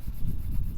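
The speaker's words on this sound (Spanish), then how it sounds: "Se puede lijar en seco también" Dry sanding the plastic casing of a Sega Master System 2 by hand, a steady close scratchy rubbing that continues without break through the short moment.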